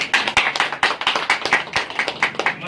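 Vigorous, rhythmic clapping from a gathered audience at a Life OK News award ceremony, loud and continuous with quick, fairly regular beats, no talking.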